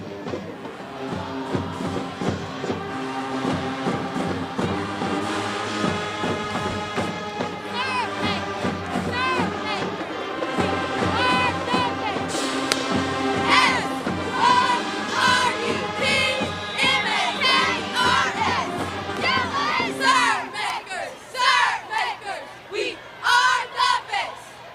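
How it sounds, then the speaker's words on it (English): Cairo cheer squad shouting a Syrupmakers cheer at a Friday night football game against Godby, loud layered crowd chanting and yelling with rhythmic bursts, ending in scattered cheering. "They've got a special Syrupmakers cheer"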